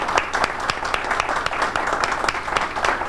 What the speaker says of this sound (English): And now we can do the applause because the closing arguments have been done.